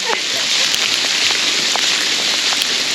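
Hail falls in the Carpathian mountains as a dense, steady patter over a wide area, with scattered sharp ticks of individual stones close by.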